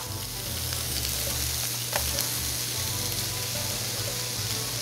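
Eggplant sizzles steadily in a hot oiled pan, a constant crackling hiss up close with a low hum underneath and a soft clink partway through.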